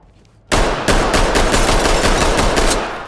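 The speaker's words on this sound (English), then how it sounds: "You shot him in the head." Rapid automatic gunfire in the tactical shooter Ready or Not erupts suddenly after a quiet start, a loud, dense burst of repeated shots continuing steadily for about two and a half seconds.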